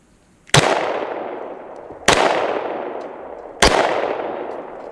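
Three loud, sharp Glock 17 pistol shots fired about 1.5 seconds apart, each with a long echoing tail decaying across an outdoor range, no speech.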